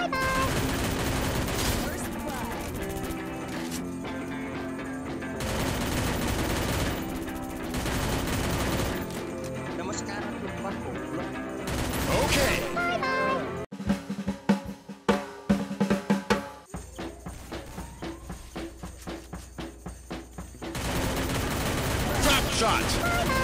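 Gunfire from drop shots in the mobile shooter Free Fire: sustained bursts and rapid cracks run through most of the stretch, with a denser rattling volley near the middle and game music and effects underneath.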